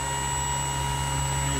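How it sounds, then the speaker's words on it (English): Electric motor of a Park Zone F4F Wildcat RC plane, running on a 3-cell 1300 battery below full power, gives a steady, continuous whine with strong tonal lines, unchanging in pitch throughout and fairly close. "But this demonstrates smooth operation of the motor."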